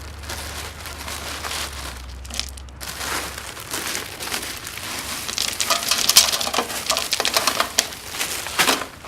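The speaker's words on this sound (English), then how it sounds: "I'm going to put a layer of ice on top of that" Ice cubes are piled onto fabric for ice dyeing, a dense stream of crisp clicks and crunchy rattles as pieces tumble and settle, growing busier toward the end, with a low hum early on.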